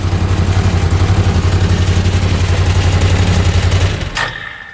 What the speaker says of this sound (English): it overheats in about 7 minutes idling.